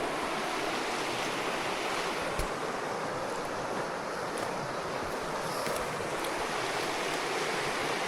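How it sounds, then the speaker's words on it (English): A river runs down into the ocean on the Kaikoura coast, giving a broad, constant wash of water with a little wind, steady and unbroken, without talk. "River just running down to the ocean"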